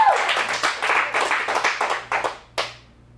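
A small audience claps at an adult acting showcase, a thin, near burst of individual hand claps that quickly tapers off into a few scattered final claps.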